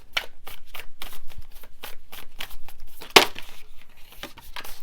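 Tarot cards being shuffled by hand, a close, rhythmic series of soft riffling flicks and slaps with one sharper snap near the end, heard alone without talk.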